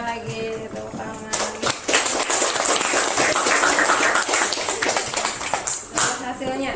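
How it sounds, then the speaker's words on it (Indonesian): A classroom of students clapping together in a sustained burst of applause that runs most of the way through, fairly loud and close, with a teacher's voice and chatter mixed in around it. "Tepuk tangan"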